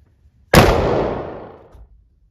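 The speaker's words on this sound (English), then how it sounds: "aim to the target and shoot. Off the trigger, pump." A single loud pump-action shotgun blast at an indoor shooting range in Prague, a sharp report followed by a long decaying echo lasting over a second, with no talk.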